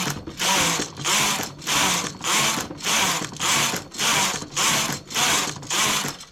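A knitting machine carriage is pushed back and forth across the needle bed knitting a 1x1 rib, making eight loud, regular ratcheting clatters, each about half a second long with brief pauses between passes.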